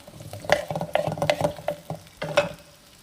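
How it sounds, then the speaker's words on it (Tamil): Garlic cloves, tomatoes and dried red chilies sautéing in a pan for pirandai chutney, with a steady soft sizzle broken by several sharp scraping stirs and clatters of a spoon against the pan, close up, with no talking. "எல்லாத்தையும் வதக்கிக்கலாம்"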